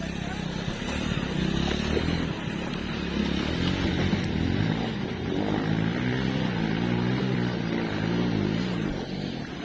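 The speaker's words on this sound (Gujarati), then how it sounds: "ગાઈસ ટ્રાય કરીએ છીએ નીકળે છે કે નથી નીકળતું આપણું બાઇક." A TVS motorcycle engine labors through roughly two-foot-deep floodwater, a low rumbling drone with shifting revs under splashing water and people talking throughout.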